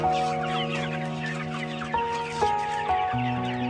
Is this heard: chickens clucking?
yes